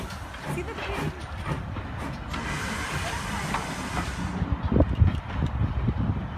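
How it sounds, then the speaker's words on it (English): A steam train on a heritage railway in South Devon rumbles past with a broad, steady hiss of steam, fading near the end while people talk nearby. "choo-choo train."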